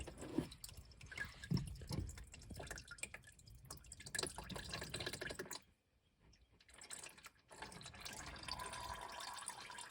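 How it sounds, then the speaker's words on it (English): Engine oil drains from the oil filter of a 2022-2024 Honda HR-V, making a close liquid trickle with irregular drips and splatters into a drain pan. The flow pauses briefly near the middle, then resumes. "And I'm just gonna let that drain a little bit"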